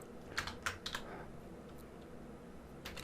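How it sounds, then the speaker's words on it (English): Fingers tap on a computer keyboard in short bursts, a quick run of clicking keystrokes early, a pause, then a few more taps near the end, close and fairly quiet in a still room. "here I'll type in a title"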